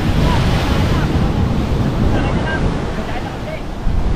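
Rough sea surf rolls against a shore where fishing boats sit, a continuous broad roar of waves mixed with heavy wind buffeting the microphone.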